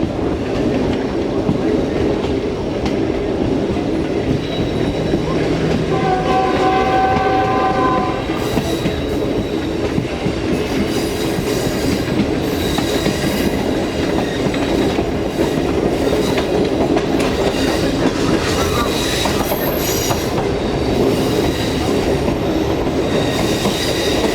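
The Shalimar Express rumbles loudly along the rails through Punjab farmland on a left curve off the main line, with constant wheel roar, rhythmic clatter, a brief horn blast and occasional high squeals from the wheels.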